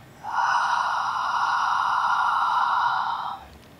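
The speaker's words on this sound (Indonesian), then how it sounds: "inhale. Exhale." One long, steady exhale during a shoulder-strengthening workout on a mat, a breathy hiss held for about three seconds, close and clear, starting and stopping cleanly.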